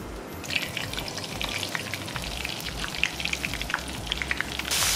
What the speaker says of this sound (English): And then you're gonna place this in the hot oil.